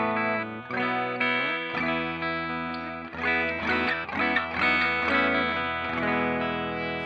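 An electric guitar, a Rickenbacker through an Abrachinsky Effects Enigma V2 pedal on a clean tone, plays chords and melodic runs, notes ringing with a shimmering, slightly modulated sustain, clear and unaccompanied.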